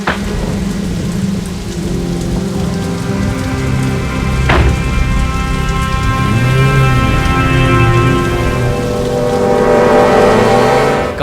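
Heavy Mumbai rain pours in a steady, loud hiss with a dense patter, and a sharp crack stands out midway. Other muffled tones run underneath throughout, and no one speaks.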